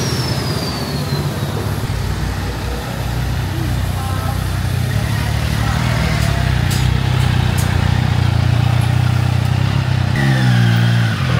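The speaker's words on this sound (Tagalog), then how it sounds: "Ang mapalagyan natin ng exhaust na aftermarket si Daytona 660 at makat delete syempre para lumabas yung tunay na tunog." A 2025 Triumph Daytona 660 motorcycle fitted with a red aftermarket exhaust and a cat delete rumbles steadily up close, then its engine note climbs in a rev near the end.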